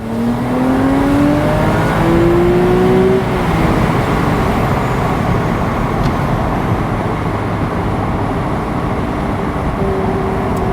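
A 2009 Porsche 911 Carrera 4S (997.2) engine climbs in pitch as it revs hard toward redline, then settles into a loud, steady drone of road and engine noise.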